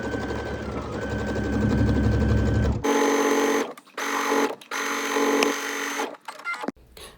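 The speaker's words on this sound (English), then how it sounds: "With right sides together, you're going to stitch the lining of the bag at the bottom." Sewing machine running steadily as it stitches the bottom seam of a tennis bag lining, loud and close, with a long continuous run followed by several shorter bursts and brief pauses.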